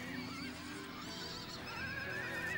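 A horse whinnies in a long, wavering call in the Amazonian marshes, then neighs again more shrilly, with faint hoof and background noise underneath.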